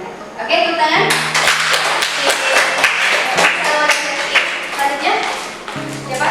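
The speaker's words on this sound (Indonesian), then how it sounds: "Oke, tepuk tangan." A group in a teaching session claps hands in a quick burst of sharp claps, fairly close and loud, with voices talking around and between the claps.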